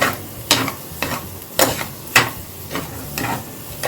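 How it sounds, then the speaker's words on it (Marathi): A spoon stirs sugar into a grated coconut mixture in a pan, making repeated scraping strokes about every half second over a low, constant sizzle, close up, with no voices. "आता ही आपली साखर ह्याच्यात घालून घेते आता ती सगळं मिक्स करून घेऊया"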